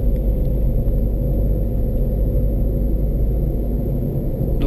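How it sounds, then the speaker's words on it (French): A car's engine runs loud and steady, held at high revs while accelerating on a road in Spain, a constant close droning rumble with no voices. "j'ai pas peur d'utiliser le sur-régime, c'est-à-dire j'accélère un peu"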